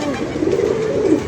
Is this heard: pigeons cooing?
yes